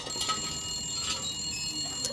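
A ringing telephone in the survival game The Long Dark gives short, bright trilling bursts about once a second over a low, steady wind-like background.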